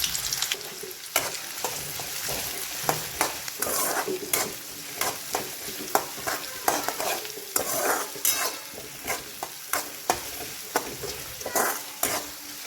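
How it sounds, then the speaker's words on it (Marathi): Finely chopped onion fries in hot oil in a kadai, a constant close sizzle broken by regular scraping strokes of a stirring spoon against the pan. "तेल गरम झाल्यावर बारीक चिरलेला कांदा घेतलेला आहे ते टाकायचंय।"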